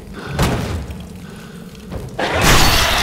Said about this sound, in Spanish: esa explosión no me la esperaba